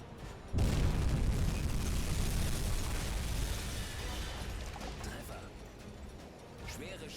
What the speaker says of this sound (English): there we go, 1 good hit there on that EF class destroyer